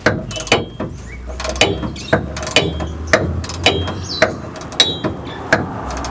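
A ratchet tightening a loose towbar bolt on a truck frame gives sharp, evenly spaced clicking strokes in a steady repeating rhythm, loud and close with a faint mechanical rattle between them.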